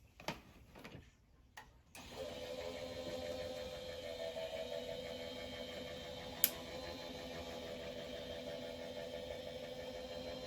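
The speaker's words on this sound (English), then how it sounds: "Layer this up and run it through my Impress." An Impress die-cutting machine runs with layered plates on a magnetic mat: a few soft handling taps, then a steady mechanical motor hum with a faint regular ticking and one sharp click partway through.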